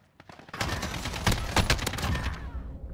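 Rapid automatic AK-47 fire with maxed recoil in Modern Warfare, a dense, loud burst of overlapping shots that runs almost continuously for a few seconds, close and unaccompanied by voices.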